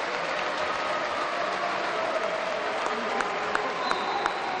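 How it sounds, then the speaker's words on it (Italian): A basketball crowd in an Italian arena at a playoff semifinal applauds steadily from a distance, a broad, even wash of clapping that holds at the same level without pause. "Gli applausi di Viale Sclavo."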